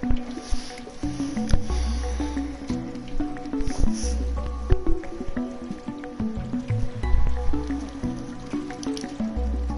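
Dripping water in the video game Stray, heard as scattered close wet drips and squishy splashes over an ambient game score, with no talking.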